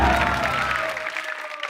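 Studio audience applause on a comedy stage show, a burst of clapping and crowd noise that quickly fades out.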